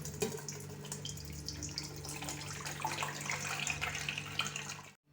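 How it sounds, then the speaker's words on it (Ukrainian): Water pouring and splashing out of jars into a sink, a continuous trickling gush that stops abruptly at the end. "Зливаємо воду."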